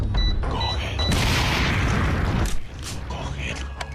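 A delayed explosion in Resident Evil 4 VR: a broad, rumbling blast that swells and holds for about a second before cutting off, followed by quieter mechanical clicks and game sounds.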